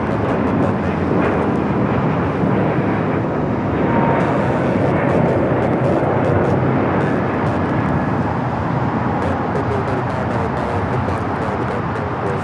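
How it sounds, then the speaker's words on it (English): Frontier Airbus A321neo jet departing LAX for Atlanta, a steady loud broadband roar of engines at takeoff thrust that holds for the whole stretch with no speech over it. "4316 taking off to Atlanta on the A321neo"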